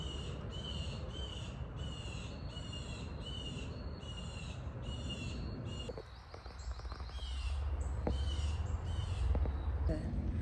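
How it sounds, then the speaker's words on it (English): A blue jay gives a run of harsh, evenly spaced calls, about nine in a row, that sound fairly close. Other outdoor noise takes over near the end. "So that was a blue jay."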